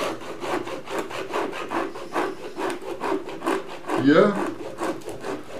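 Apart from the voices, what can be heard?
hand saw cutting a slice off wood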